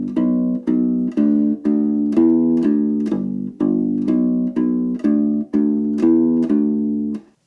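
U-Bass, a ukulele-sized bass, playing a blues rock bass line on the 1 chord: a steady run of about fourteen evenly spaced plucked notes with rounded low tone, loud and alone.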